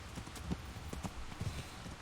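A horse gallops in Kingdom Come: Deliverance, its hooves giving a steady clip-clop rhythm of evenly spaced thuds, fairly close and moderately loud over the low ambience of the game.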